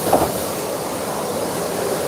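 A Garratt steam locomotive hauls a long rake of carriages on a narrow-gauge heritage railway, giving a steady broadband rumble of wheels and rolling stock close by with no talk.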